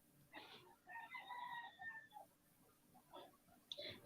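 Faint rooster crowing carries from a distance, a drawn-out cock-a-doodle-doo with brief clucks and calls before and after, quiet and somewhat muffled under a low background hum.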